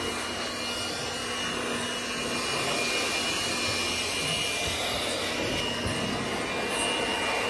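A strong, continuous rush of blown air is used to clean tractor filters, a steady hiss that holds at the same level throughout with no voices.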